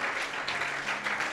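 A short, dense burst of applause and cheering from a church congregation during a Sunday worship service, heard close and continuous.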